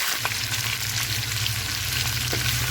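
Steady sizzling of chicken frying in a hot pan, a continuous crackling hiss with a low hum beneath, no voices.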